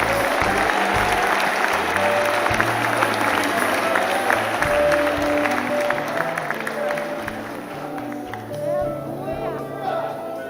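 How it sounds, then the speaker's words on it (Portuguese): An audience applauds at a church gathering, dense clapping layered with music and crowd noise, continuing steadily throughout. "Essas palmas são para vocês."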